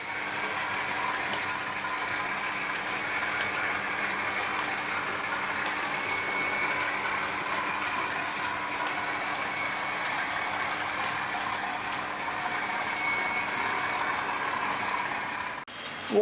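A Hornby Class 20 model locomotive pulls Cross Country Mark 3 coaches steadily along its track with a continuous mechanical whirr and rattle that stays even throughout, ending in a brief knock.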